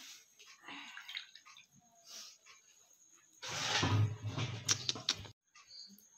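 Bread dipped and soaked in water seasoned with red chilli powder and salt gives a short, close wet sloshing burst lasting about two seconds, set among quiet handling sounds.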